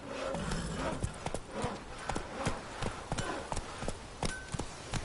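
Roach the horse galloping in the video game The Witcher 3, a steady, rapid clip-clop of hooves close by with a faint breathy rumble beneath.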